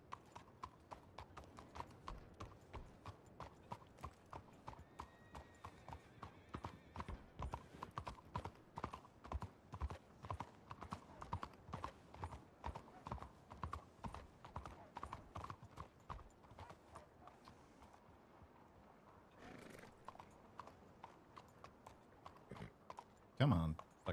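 Horse hooves gallop steadily in a Red Dead roleplay video game, a quiet, rapid, rhythmic clip-clop running for over twenty seconds beneath intermittent talk.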